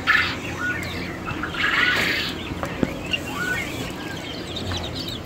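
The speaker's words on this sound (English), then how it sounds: "I want to see the cutest chickens in the whole wide world." Fluffy hybrid chicks heard close, with a few soft chirps and clucks over a steady background hum and faint rustling; no clear talk.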